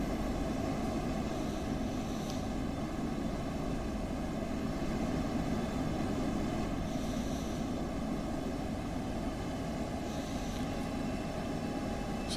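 An F-16C jet engine in the DCS flight simulator game produces a steady, loud, broadband roar with a constant whine, continuous and unchanging throughout with no talk.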